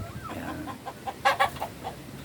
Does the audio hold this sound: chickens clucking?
yes